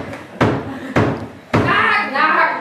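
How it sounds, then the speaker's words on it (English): Three loud, hard knocks on a door in a stage performance of a Shakespeare play, evenly spaced about half a second apart and close up, followed by a voice speaking. "Knock, knock, knock."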